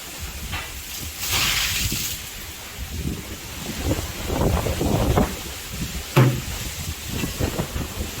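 Strong gusts from Super Typhoon Carina roar past the microphone, with a constant hiss and rumble that swells and eases in uneven surges and includes occasional sharp knocks.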